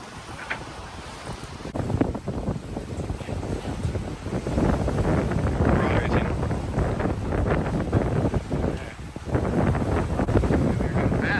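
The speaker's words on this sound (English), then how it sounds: "doing 7 knots, pulling 8 knots of wind, trying to outrun the swell" Strong wind buffets the microphone aboard a sailboat cruising off Thailand at about seven knots in eight knots of wind, with water rushing along the hull in a continuous loud roar.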